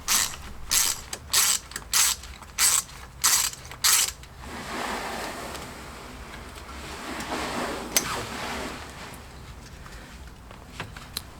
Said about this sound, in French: Maintenant, je défais la vis de maintien du capteur ABS.